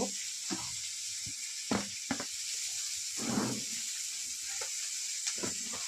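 Onions, tomatoes and green chillies fry in hot oil, giving a steady close sizzle throughout, broken by a few sharper crackles and a brief louder stirring scrape midway.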